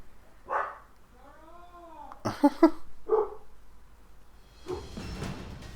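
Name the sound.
dogs barking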